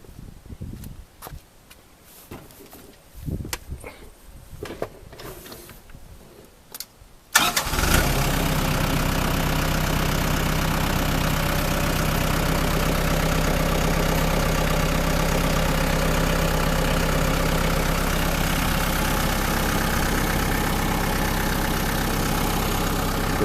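A 2006 New Holland TC45D compact tractor with loader cranks briefly and fires up, then settles into a loud, steady diesel idle that continues unchanged for well over ten seconds without talk.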